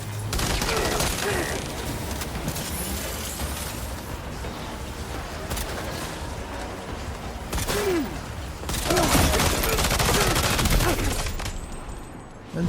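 Gunfire in the video game Death Stranding 2: rapid bursts of shots and fusillades crackle through a dense, busy game soundscape. They grow heavier toward the end.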